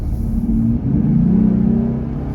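A Jeep Gladiator fitted with a cold air intake revs its engine while it is still cold: a loud, steady low growl that swells slightly as the throttle opens, with no talking.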